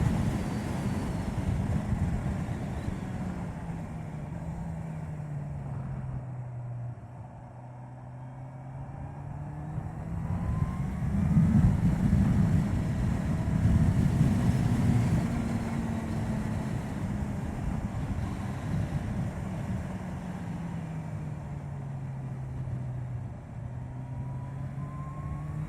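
A 2018 Kawasaki H2 SX SE motorcycle rides along with a steady engine drone that rises and falls as the rider opens the throttle and accelerates, smooth and continuous with wind rush, no voices.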